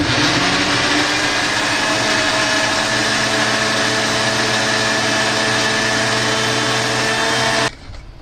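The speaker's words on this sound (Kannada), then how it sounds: "ಆಮೇಲೆ ಮಿಕ್ಸರ್ಗೆ ಹಾಕೊಂಡು ಜ್ಯೂಸ್ ರೆಡಿ ಮಾಡ್ಕೊಬೇಕು." A kitchen mixer grinder running steadily while blending muskmelon fruit into juice, a loud continuous whirring drone that holds even for about seven and a half seconds before cutting off abruptly.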